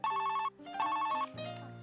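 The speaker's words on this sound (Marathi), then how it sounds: "कमल, तुझा फोन आहे." An indoor telephone rings with a bright electronic chirping tone in two quick bursts followed by a lower held note, close and clear with no talk over it.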